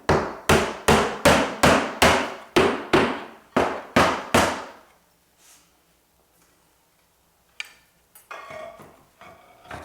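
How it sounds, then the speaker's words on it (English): Hammer blows driving nails into interior wall cladding during installation of the first course, about ten sharp, evenly spaced strikes in quick succession, then a quiet stretch with faint handling clatter and rustling toward the end. "as you see, we're nailing our first course"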